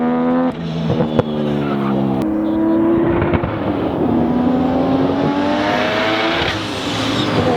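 Drag car racing around a road course: a loud, raw engine close by, revving and shifting with rising and falling pitch, some roughness and stumbling at low RPM, and faint voices underneath.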